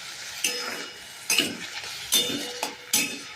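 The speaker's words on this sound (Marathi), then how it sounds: "त्यानंतर इथे आपण भाजलेली भगर घालत आहोत." Roasted bhagar (barnyard millet) tipped into a pan and stirred, giving a few distinct scraping clinks of spoon on metal at irregular intervals over a faint low sizzle, close by with no speech.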